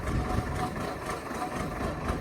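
A tractor engine runs steadily nearby, a constant low rumbling drone with no pauses over the whole stretch.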